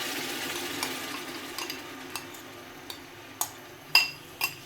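A yogurt spice paste fries in oil left from frying onions, with a steady soft sizzle and a spoon scraping and clinking against the pot every second or so, the knocks louder toward the end, close up with no talking.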